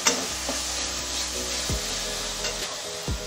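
Spices and nut paste with cumin powder are stirred and fried in a pan for a potato and pointed gourd curry, a soft sizzle under scraping spatula strokes with a few sharper knocks against the pan.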